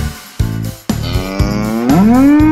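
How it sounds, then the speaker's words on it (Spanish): Cows mooing in several close, loud, drawn-out calls, one after another with brief gaps, the final moo rising in pitch. "hoy les voy a presentar a las vacas"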